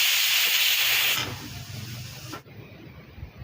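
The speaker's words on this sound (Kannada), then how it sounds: "ಒಂದ್ಸಲ ಮಿಕ್ಸ್ ಮಾಡಿಬಿಟ್ಟು ಕುಕ್ಕರ್ ಲಿಡ್ ಮುಚ್ಚಿ ಒಂದು ವಿಸಿಲ್ ಬರಬೇಕಷ್ಟೆ" A pressure cooker holding brinjal cooked in oil vents steam in a loud, harsh hiss for about a second, then the hiss drops to a softer rushing and trails off into quiet kitchen background.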